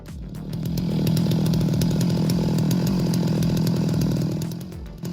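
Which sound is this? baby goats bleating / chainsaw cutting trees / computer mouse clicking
chainsaw cutting trees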